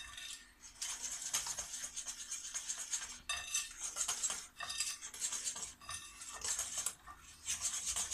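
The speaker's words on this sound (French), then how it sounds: "Alors bien mélanger naturellement." Pear tart batter being mixed in a bowl, a steady run of close utensil scrapes and clinks with brief pauses between strokes, moderately loud and unaccompanied by speech.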